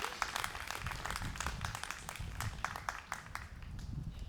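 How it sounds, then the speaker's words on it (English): An audience at a recital applauds for Shannon, many hands clapping in a steady, dense patter that holds evenly throughout at moderate volume, with no voices over it. "let's have a round of applause for Shannon"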